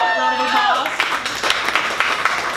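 Audience clapping breaks out at an improv and sketch comedy show, starting under a voice and building into a scattered round of applause that continues after the talking stops.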